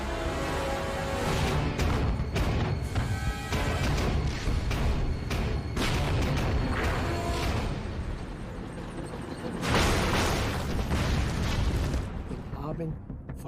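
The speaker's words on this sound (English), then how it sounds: "Enormous explosions." Battle explosions at El Alamein: heavy, rumbling blasts and bursts follow one another in a dense, chaotic wash, loud and continuous, with a big surge near the end and a voice speaking underneath.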